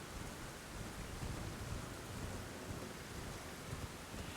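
Steady rain pours down in the Elden Ring video game, a dense continuous hiss across the whole stretch with faint low rumbles beneath, evenly loud and with no voices.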